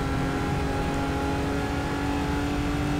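A race car engine held at high revs in Gran Turismo 3, a loud, steady buzzing drone with a sustained tonal whine and no pauses throughout.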